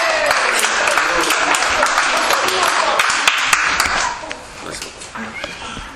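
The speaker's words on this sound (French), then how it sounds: "Allez, on l'applaudit." An audience gives sustained applause for a young trophy winner at a youth awards ceremony, dense close clapping that thins out near the end, with voices mixed in.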